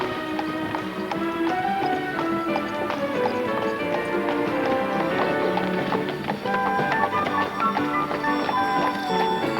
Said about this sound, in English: One rewarding way to see Seville is by horse-drawn carriage